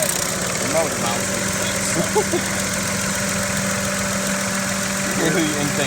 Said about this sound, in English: Hear the intake tube just jiggling away